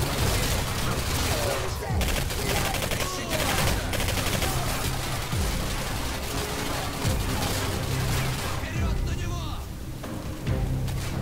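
Dense gunfire in the video game Singularity as shots go through walls, with sustained automatic bursts and loud booming hits continuing throughout, while someone talks over the shooting.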